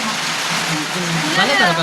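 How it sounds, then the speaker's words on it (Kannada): Rain falls outdoors as a soft, continuous hiss, close and even, while someone speaks over it for a moment. "ಗೈಸ್ ಇವತ್ತು ಮಳೆ"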